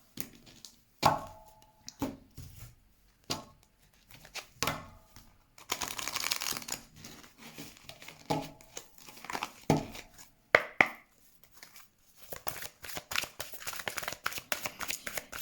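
Tarot cards being shuffled and drawn by a French card reader: repeated papery riffles, slaps and crinkly flicks come in short bursts, with a longer dense shuffle in the middle and more scattered snaps after it. The sounds are close, fairly quiet, and no one speaks.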